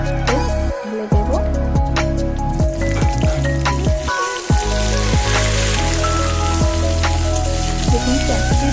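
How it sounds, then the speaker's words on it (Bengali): Chopped onion poured into hot oil for a Bengali egg curry, giving a loud, close sizzle and crackle that keeps going, with spatula scrapes and clatter against the pan along the way. "এরপর এর মধ্যে আমি কেটে রাখা পেঁয়াজটা ঢেলে দেব।"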